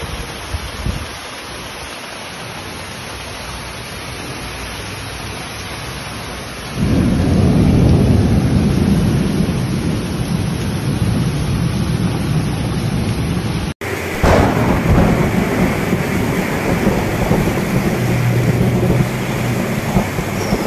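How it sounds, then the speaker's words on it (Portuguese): Heavy rain pours in the sertão of Brazil, a dense steady roar of water with deep rolling thunder, growing louder partway through and staying loud and close to the end. "Olha a chuva de hoje aqui no espinheiro, olha."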